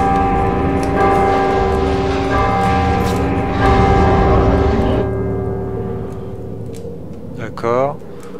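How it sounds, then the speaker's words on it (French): A bell rings in the video game God of War 2, its sustained metallic tones layered over game music and ambience, with a brief swell near the end. "Là, il y a une autre cloche."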